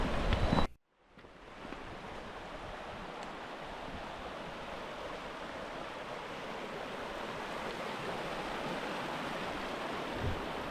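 Creek water flowing in the Alaska Range, the largest creek along the route, heard as steady, close, broadband rushing and splashing that continues alone after a brief drop at the start.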